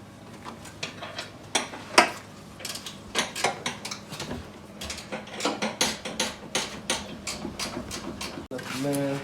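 Ratchet wrench working 15 mm bolts out of a Jeep's inner frame rail during a front bumper install, with a series of quick, close clicking bursts in uneven rhythm and a voice talking in the background.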